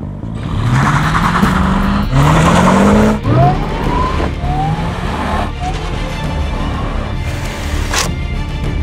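A Cadillac CTS-V Wagon builds speed to jump a Range Rover, its engine loud and close, climbing through rising gear pulls with brief breaks at the shifts, then settling into a steadier roar.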